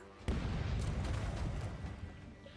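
Ship cannons fire a broadside in the pirate video game Rogue Waters: a sudden heavy boom followed by a dense rumbling roll of overlapping blasts that slowly fades.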